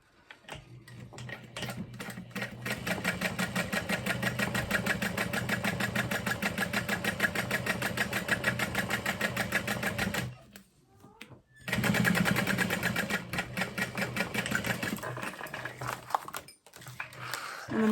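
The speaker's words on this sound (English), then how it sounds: "And then we're going to top stitch." Home sewing machine topstitching the folded top edge of a chevron bikini add-on, a loud rapid buzzing run, then a brief pause and a second shorter burst of stitching.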